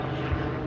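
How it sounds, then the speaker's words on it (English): Low droning hum of an airplane passing overhead above Disney Springs in the evening, a faint steady engine rumble with no voices. "There's an airplane above us, looking over Disney Springs."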